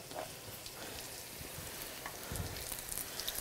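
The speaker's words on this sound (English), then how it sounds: "once they start frying, they hold together very well" Pupusas fry in a pan, a faint, steady crackling sizzle with scattered pops, quiet and without voices.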